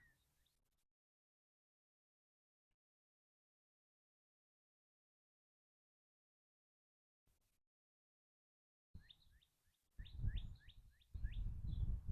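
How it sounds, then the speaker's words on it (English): After long silence, birds chirp in a quick series of high tweets, fairly faint, with rumbling background noise underneath. "listen to the sounds of the birds. Hopefully they're coming through."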